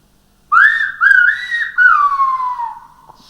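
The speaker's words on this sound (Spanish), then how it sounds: "Y por último silbamos Carmen" A single person whistles a name in the whistled language of Gran Canaria, three loud, clear whistled phrases that rise and then glide down in pitch, alone with no talk.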